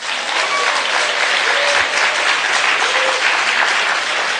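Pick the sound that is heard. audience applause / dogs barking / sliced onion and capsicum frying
audience applause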